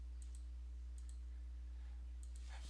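A few faint, crisp computer mouse clicks in Photoshop on a quiet desk, arriving in close pairs, with a low steady hum underneath.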